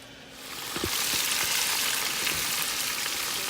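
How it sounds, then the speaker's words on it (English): Chicken pieces frying in hot oil in a pot for Jamaican brown stew chicken, a steady close sizzle that swells after the first second and holds with a few soft pops. "There we go, chicken's frying up."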